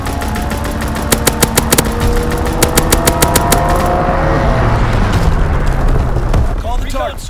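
A Call of Duty: WWII fighter pilot strafes the target in rapid, evenly spaced cannon shots. Heavy rumbling explosions follow and roll on loudly, while an in-game voice announces the run.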